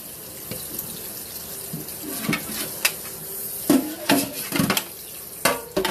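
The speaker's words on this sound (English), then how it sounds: "And then you just rinse it, and I'm doing cold water to start to get all the starch off of there." Cold tap water runs to rinse mashed potato starch off a long-handled kitchen utensil, with uneven splashing and sharp clinks of the utensil against the sink, close by with no talking.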